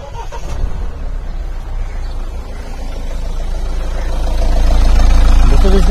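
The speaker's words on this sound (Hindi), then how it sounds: "और ये इसका इंजन है जो कि काफी पावरफुल है।" Petrol engine of a 2020 Mahindra Thar AX base model idling under an open bonnet, a steady low rumble close by that swells slightly louder toward the end.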